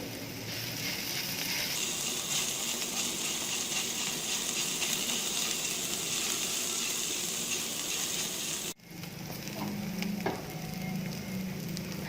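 Vegetable fried rice frying in a pan, a steady loud sizzle that carries on for several seconds, then a sharp cut to quieter sizzling with light stirring.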